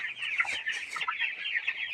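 Dense chorus of about 1,200 broiler chickens clucking and peeping together in a poultry shed, close and continuous.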